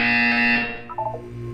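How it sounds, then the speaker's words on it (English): A loud electronic buzzer from the video game Portal 2 blares steadily for about half a second, then tails off into a short warbling electronic fragment, heard alone and close. "You will hear a buzzer."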